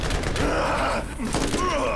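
Rapid gunfire bursts from the Borderlands video game crackle continuously through the short stretch, with a voice and game sounds mixed in.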